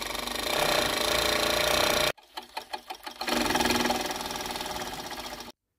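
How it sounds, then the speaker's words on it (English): An overlocker trims the excess seam allowance off upholstery piping, running in a loud, steady buzzing stitch for about two seconds, pausing through a few short clattering bursts, then whirring on again close-up before stopping abruptly. "So here's our overlocker."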